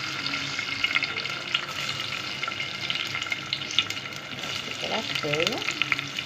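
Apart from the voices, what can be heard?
rice frying in oil and ghee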